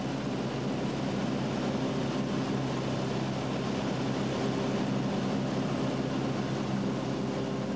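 A small propeller airplane in flight fills the cockpit with a loud, steady engine drone and broadband rushing noise, unbroken for the whole stretch.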